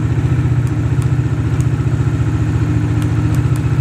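A Bajaj Dominar 400 BS6 motorcycle engine from 2020 runs steadily near the listener just after starting, a loud low rhythmic thump with a faint mechanical clatter and no talk.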